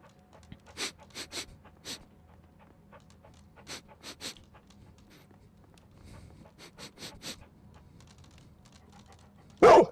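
Toby the dog in Sherlock Holmes: Crimes & Punishments gives quick panting and sniffing bursts in small clusters over a quiet background, ending with a sudden loud thump.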